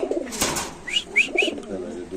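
Caged pigeons at a pigeon market coo in a short series of soft calls close by, with murmuring from the market around them.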